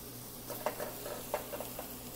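Taco seasoning sautéing in a pan for a basic red sauce, a faint steady sizzle with a few soft stirring scrapes and light taps, close but quiet.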